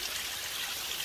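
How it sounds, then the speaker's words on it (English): Little tiny waterfalls on an Appalachian Trail hike after heavy rain, a steady close hiss of trickling, splashing water with no other sounds. "But you got a lot of little tiny waterfalls out here."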